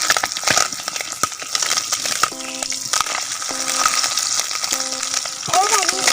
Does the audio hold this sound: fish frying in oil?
yes